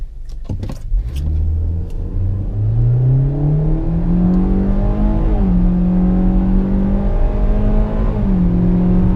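A 2021 Hyundai Elantra SEL engine revs up from idle and accelerates hard from a standstill, pitch climbing steadily with a gear shift partway, loud and close throughout.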